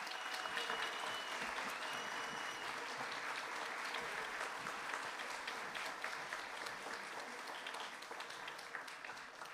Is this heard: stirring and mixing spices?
no